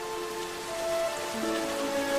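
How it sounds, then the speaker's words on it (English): Steady rain falls and patters on a surface, a continuous hiss of drops with faint tonal hum beneath, no voices. "I've been enjoying the rain."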